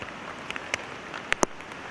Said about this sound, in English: this is some big old fat rain right here